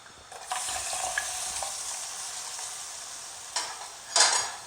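Squid strips sizzle in melted butter and olive oil in a hot pan, a steady bright frying hiss that swells as the pieces are stirred, with a couple of scraping clinks.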